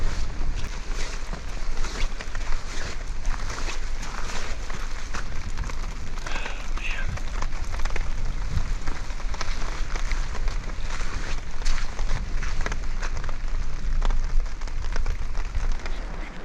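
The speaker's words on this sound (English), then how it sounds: "That was the most rain I think I've ever had while camping." Steady, heavy downpour drumming on a campsite in the Uinta Mountains of Utah, a broadband wash of rain with gusty wind noise, continuous and fairly loud throughout with no talking.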